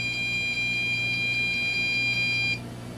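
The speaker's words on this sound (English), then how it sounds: "it just gave that beep error" Rapid electronic error beeping from a failing digital picture frame computer, a steady string of short high-pitched bleeps over a low hum, stopping after about two and a half seconds.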